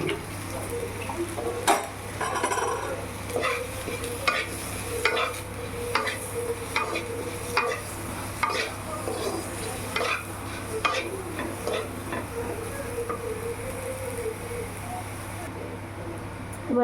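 Mango pieces sizzle and fry in a pan with turmeric and salt while being stirred, a steady close-up hiss broken by repeated scraping strokes and light clinks of the spoon against the pot.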